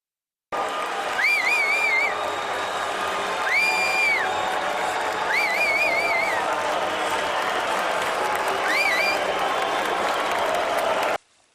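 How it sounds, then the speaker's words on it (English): A convention crowd boos Governor Cox, a loud, sustained wall of crowd noise with wavering, rising-and-falling voiced tones cutting through repeatedly before it stops abruptly. "KSL was at the convention when Governor Cox was booed"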